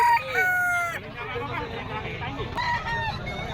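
A bull stag gamecock crows at a Bocaue pet market, its harmonic call rising and breaking off, then a second crow follows amid busy market chatter and background noise.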